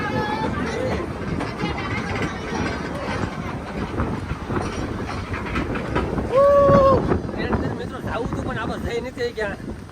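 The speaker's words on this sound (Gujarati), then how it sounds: "ટ્રેન આવી મિત્રો" A train pulling in at the Kankaria Lake ride, a low rumbling clatter under gusty wind noise, with a brief two-tone horn or whistle partway through and people talking over it.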